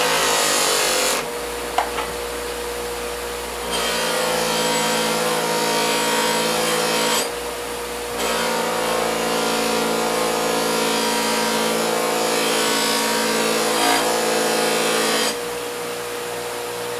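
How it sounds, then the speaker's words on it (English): A buffing wheel spins against an axe head loaded with green polishing compound, a steady motor whine with rubbing friction that swells and eases in several long passes, close and fairly loud with no talk. "Now I'm going to apply the green compound for polishing."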